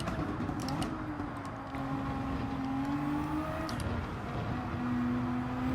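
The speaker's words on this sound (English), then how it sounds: "Without the slip, we can rev it out in 5th gear." A race car engine in Gran Turismo 7 holds a steady, loud drone in 5th gear, its pitch climbing gradually as it revs out, dipping briefly, then rising again.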